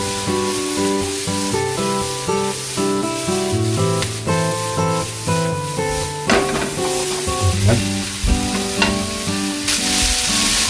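Bean sprouts sizzle in a frying pan as they are stirred, with background music playing over it.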